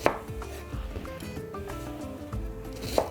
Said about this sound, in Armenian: և 1 գլուխ սոխը կտրատում ենք մանր, դանակ ունենք արդեն